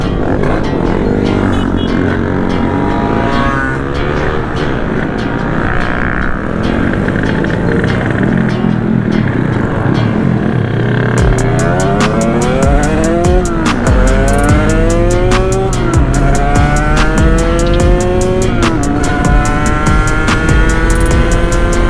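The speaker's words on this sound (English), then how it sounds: "The bike is pretty loud too, with the pipe and exhaust." A Sherco big bore supermoto motorcycle on a street ride, its loud aftermarket pipe and exhaust droning steadily and close, with rising and falling revs through gear changes and no talking.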